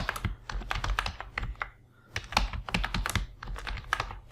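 Someone types a password on a computer keyboard during a Linux install, producing quick runs of close, clattering keystrokes with a short pause in the middle.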